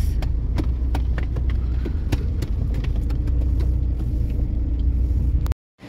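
A car rolls in slowly to park near a temple in Mumbai, a steady close engine and tyre rumble broken by scattered clicks and knocks before cutting off abruptly.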